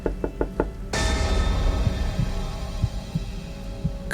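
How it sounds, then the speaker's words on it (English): Several quick knocks on a door, close and evenly spaced, followed by a sudden low droning hum with faint thuds beneath it. "I heard knocking from outside again"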